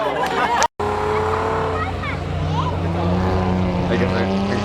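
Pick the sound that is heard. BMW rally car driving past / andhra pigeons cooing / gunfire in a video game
BMW rally car driving past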